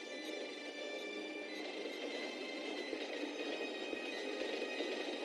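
A moving train gives a steady, faint rolling rumble and hiss that holds constant throughout, distant and with no voices over it.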